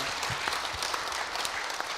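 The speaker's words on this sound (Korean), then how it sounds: "우리 가운데 영광으로 부활하신 우리 주님께 감사와 영광의 박수 힘차게 한번 올려드리겠습니다." Vigorous applause from a church congregation at an Easter Sunday service, a dense, even wash of many hands clapping that holds steady throughout, filling the sanctuary.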